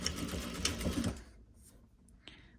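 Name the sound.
sewing machine stitching quarter-inch seam on fabric face mask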